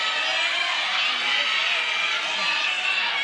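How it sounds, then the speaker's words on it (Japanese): Arena crowd at a welterweight grand prix semifinal kickboxing bout, a continuous loud roar of cheering and shrieking that sounds almost like screaming, holding steady throughout. "場内は悲鳴にも似た歓声が奥野に飛んでいる"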